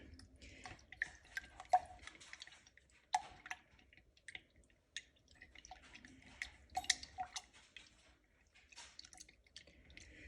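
Sourdough starter stirred with spring water in a jar, giving wet, irregular sloshing and clinking taps that come close and fairly quiet over about ten seconds, with no voices.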